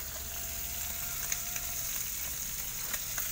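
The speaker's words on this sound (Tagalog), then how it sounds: "Magprito ako guys ng isda." Fish sizzles and crackles steadily in hot oil, a constant close frying hiss with occasional pops.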